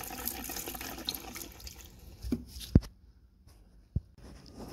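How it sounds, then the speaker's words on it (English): Gasoline poured into the fuel tank of a two-stroke Subaru 360, a steady splashing stream of liquid that tapers off, followed by a couple of sharp knocks and drips. "we got our gas poured back in"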